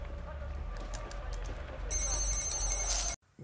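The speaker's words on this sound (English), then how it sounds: "He doesn't even know who's ringing." A telephone rings in a bedroom, a bright electronic ring pattern starting partway through over a low steady hum, close and moderately loud, cutting off abruptly near the end.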